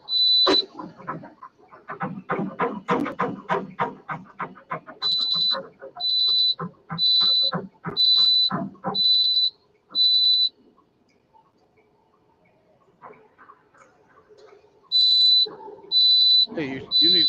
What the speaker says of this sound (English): Hey, you need to recharge that flashlight. It's giving an alarm off.